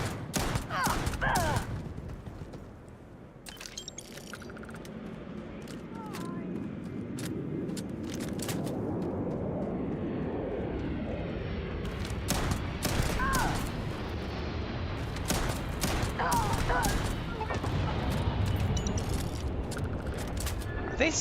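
Rifle fire in the Starfield video game rings out as repeated sharp shots and bursts over a steady rumbling background, with someone talking at several points throughout.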